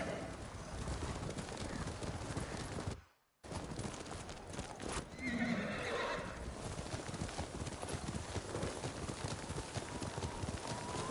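Horses gallop with steady, rapid clip-clop hoofbeats in Ghost of Tsushima, with a whinny rising over snowy wind and ambient game sound, close and continuous after a brief drop-out.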